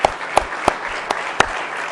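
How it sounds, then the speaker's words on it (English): Audience clapping at a young agents' closing banquet, steady moderate applause with a few sharper individual claps standing out. "a round of applause for everyone"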